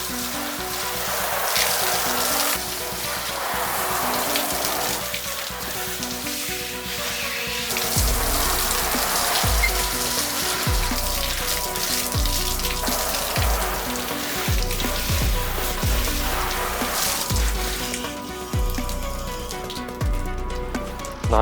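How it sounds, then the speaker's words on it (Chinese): Water splashing and streaming over a sanded fiberglass car body part as it is rinsed off, a steady close hiss of spray with intermittent splattering bursts, no talking. "把它冲洗一遍。"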